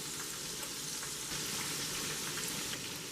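Burger patties fry steadily in a hot pan, a dense continuous sizzle with fine crackling pops, close and fairly loud throughout with no talking.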